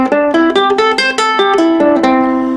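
A plucked ukulele runs quickly up and down a pentatonic-based folk scale, bright, close, and loud, with no voices.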